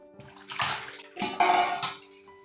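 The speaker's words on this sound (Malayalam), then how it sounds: "ചേമ്പി പിടിച്ചിരിക്കുന്ന മണ്ണെല്ലാം നന്നായി പോകുന്ന വിധത്തിൽ വേണം കഴുകിയെടുക്കാൻ" Water sloshes and swishes in bursts as taro roots are rubbed and rinsed in a basin to remove soil, with a steady low hum underneath.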